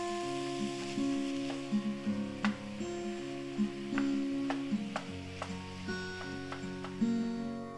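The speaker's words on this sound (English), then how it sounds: "add the pound of lamb or turkey, whichever you're using, to the vegetables and stir until it sautés, until it browns slightly" Ground lamb browning with vegetables in a pan, a soft steady sizzle under a looping background melody with occasional light clicks of stirring.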